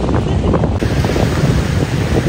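Small ocean waves wash onto a beach in Hawaii, a steady broadband surf roar mixed with heavy wind buffeting the microphone.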